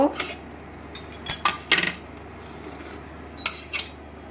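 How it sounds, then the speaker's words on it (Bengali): Egg and vegetable pizza lifted from a pan onto a plate with metal utensils, giving a few sharp clinks and scrapes spread across a quiet kitchen with low background hum. "এবার আমি প্লেটের মধ্যে তুলে নেব।"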